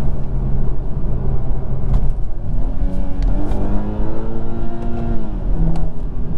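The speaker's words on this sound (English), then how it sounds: "I like the fact that this thing bangs off the rev limit." A 2021 Toyota Supra Mk5 2.0 sports car engine revs loud and close, its pitch climbing and falling repeatedly as it bangs off the rev limiter, with no talking.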